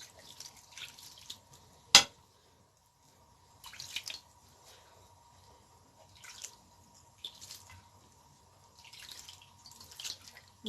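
Wet, squishy slaps and dabs of dough being worked by hand as water is added for kneading, a sharp click then several soft intermittent squelches, close and quiet with no talk.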